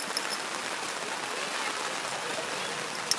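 River flowing beneath a bridge gives a steady, broadband rushing hiss throughout, even and moderately loud with no clear voices.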